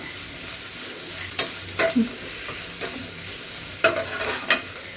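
Carrot, beans and capsicum stir-fried together in a pan, a low constant sizzle punctuated by half a dozen distinct metal spatula scrapes and knocks at uneven spacing, heard up close without voices.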